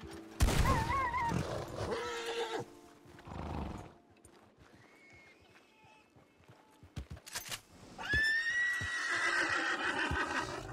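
Horse in the video game Red Dead Online whinnying and neighing in loud, shrill bursts near the start and again at the end, with clip-clop hoofbeats and scattered game sounds in between.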